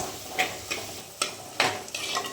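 Onions being stirred and sautéed in a pan for fish curry, with a soft background sizzle broken by about five distinct scraping strokes of a spoon against the pan, with no talking.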